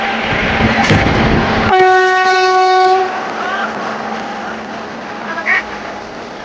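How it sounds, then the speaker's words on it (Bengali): A train pulling into Mallarpur railway station sounds a loud, sustained horn blast of about a second over heavy rumbling wheel and carriage noise, close by, followed by continued rolling rumble. "মল্লারপুর স্টেশনে ট্রেন ঢুকে যাবো।"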